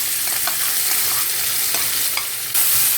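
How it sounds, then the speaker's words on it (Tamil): Onion frying in hot oil with cumin in a heated kadai gives a steady, loud sizzle, with faint stirring scrapes throughout and no talk. "ஆனியன் கொஞ்சம் வதக்கட்டும்."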